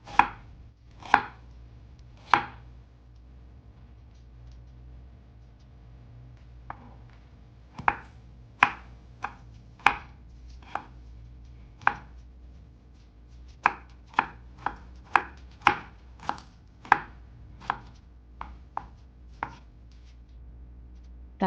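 Ginger sliced lengthwise on a cutting board, a long series of sharp, crisp knife knocks, sparse at first and then coming in quicker bursts, close and clear with no talking.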